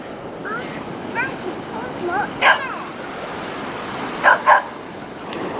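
Dogs on a beach bark a few times, short sharp yaps near the middle and a quick pair toward the end, heard over a steady wash of surf and wind noise.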